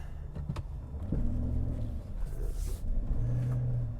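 A car engine idles at about 900 RPM, a steady low rumble with a faint whir, running alone throughout and close by. The car has a broken motor mount.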